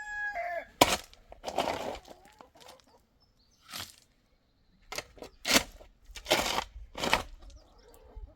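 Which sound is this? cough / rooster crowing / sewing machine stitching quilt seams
rooster crowing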